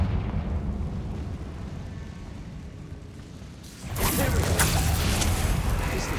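The Confringo fire spell blasts a barricade in Hogwarts Legacy, a rumbling buildup of low ambience before a sudden loud bursting whoosh and crackle that carries on to the end.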